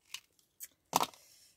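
Scissors snipping through cardstock, pressed hard: two short light snips, then one loud, dense cut that trails off into a faint rustle, with no voices.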